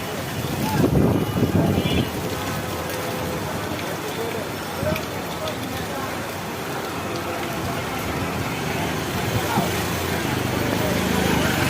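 Outdoor rain falls steadily on cattle kept for the Eid sacrifice, making a continuous wash of patter with a voice talking over it.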